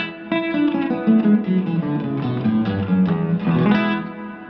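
An electric guitar plays a short melodic phrase through a Sonic Stomp effects pedal, with a compressed, slightly distorted tone ringing out clearly and alone.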